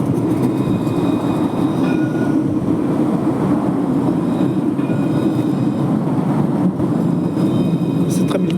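A Montpellier line 1 tram pulls into Port Marianne station with a steady rolling rumble and rail clatter, close and continuous, over a background of outdoor street ambience.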